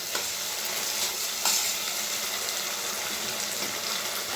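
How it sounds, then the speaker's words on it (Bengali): Poppy seed paste with salt sautéing in a pan, a continuous close sizzle with occasional stirring scrapes and soft clicks, no voices. "দিয়ে 2-3 মিনিট পোস্তটাকে কষাবো"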